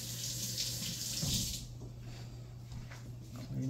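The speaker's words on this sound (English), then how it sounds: "I'm gonna wash this really quick." Tap water runs steadily into a kitchen sink while something is rinsed for a grilled mouflon meat sandwich, a close, continuous hiss that eases slightly partway through.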